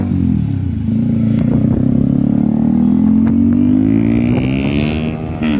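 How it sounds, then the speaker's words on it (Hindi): A Volkswagen car races past on a city road, its loud engine note rising and falling as it pulls ahead close by, with rushing traffic noise and a brief clatter. "वोल्सवैगन की गाड़ी के साथ लग रही है रेस, वोल्सवैगन की गाड़ी आगे निकलती हुई।"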